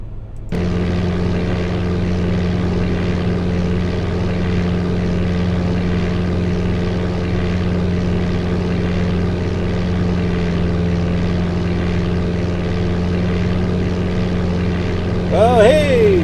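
A steady, loud propeller aircraft engine drone from the game Flight Simulator 95 holds a constant low hum throughout, with a short rising beeping tone near the end.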